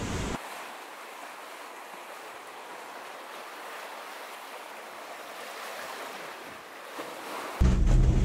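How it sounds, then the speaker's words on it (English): A Lagoon 42 catamaran punches into waves against a headwind of up to 25 knots near Palermo, a continuous broad wash of water and wind rush at steady loudness before a sudden louder gust at the end. "we just got hit by the headwinds up to 25 knots, hitting directly into the waves"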